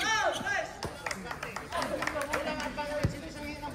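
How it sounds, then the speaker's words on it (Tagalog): Crowd at an outdoor streetball league basketball game claps and cheers in scattered bursts, mixed with excited shouting and lively voices talking nearby. "The crowd goes wild."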